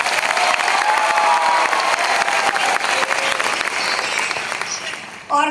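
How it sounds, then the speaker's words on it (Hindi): Loud, dense applause from a large crowd at an event in Ahmedabad, sustained and steady before tapering slightly near the end, with a brief burst at the close. "जरा एक बार जोरदार तालियां हो जाए"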